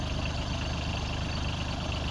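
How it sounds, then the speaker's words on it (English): Branson 2500 tractor with a BH100 backhoe, its engine idling at low revs while digging: a steady, continuous diesel rumble with an even low throb, close and unbroken throughout. "Now this is an example of where you might want a bit more engine revs occasionally."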